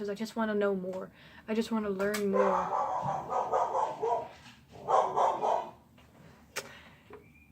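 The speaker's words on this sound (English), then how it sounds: "That's my dog." A dog barks a few times nearby while a person keeps talking over it.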